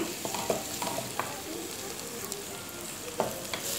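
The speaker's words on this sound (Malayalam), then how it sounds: "അതുപോലെ പച്ചമുളക് ചേർത്ത് കൊടുക്കുക നന്നായിട്ടൊന്ന് വഴറ്റിയെടുക്കണം" Green chillies and onions sauté in a pan for kothu porotta, a soft continuous sizzle broken by a few scrapes and clinks of stirring.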